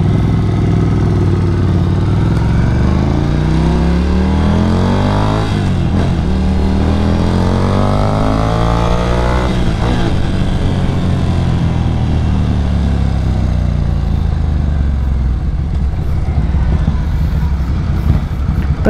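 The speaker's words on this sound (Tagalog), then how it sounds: "Tahimik talaga yung makina niya" A Ducati Scrambler motorcycle engine loud and steady while riding in hot city traffic, with a continuous rumbling drone and rising and falling pitch sweeps as the rider revs and shifts through gears.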